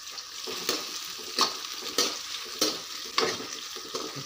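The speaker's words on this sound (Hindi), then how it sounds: "मैं इस प्याज को रोस्ट कर लेता हूँ बढ़िया से" Onions roasting in a pan are stirred with a utensil that scrapes the pan in a regular rhythm, about every half second or so, over a soft steady sizzle. Close and moderately loud, with no talking.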